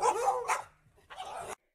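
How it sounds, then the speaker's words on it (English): A dog barks twice in quick succession, loud and close, with no other sounds around it. "Dog."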